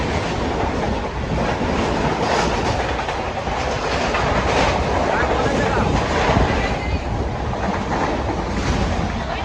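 A train passes through a railway station with a loud, continuous rumble and rhythmic clatter of wheels over the rails, close and steady throughout, with wind buffeting the microphone.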